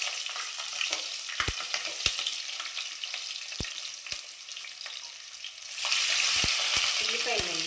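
Green chillies frying in oil in a pan for gongura pulao, a steady bright sizzle with scattered clinks of a spoon, growing louder and harsher toward the end.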